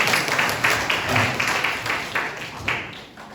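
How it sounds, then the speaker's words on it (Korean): An audience at a workers' lecture claps in response to the speaker, a fairly loud, dense round of hand claps with a loose rhythmic pulse that gradually fades out. "멋진 말을 했는데 이럴 때 박수 치세요"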